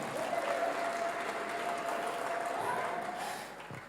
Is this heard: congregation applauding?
yes